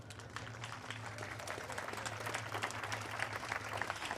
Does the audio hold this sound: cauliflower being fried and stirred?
no